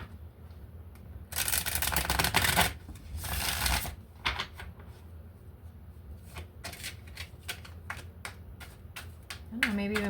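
Angel Tarot cards are shuffled in two bursts of quick riffling, close and crisp, followed by a few lighter card taps and handling sounds.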